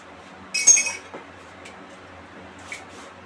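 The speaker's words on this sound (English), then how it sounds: "A quick stir." A quick stir of a mixed drink of orange and tomato juices in a glass, with one bright clink near the start and then faint soft knocks and a small later tap, close and otherwise quiet.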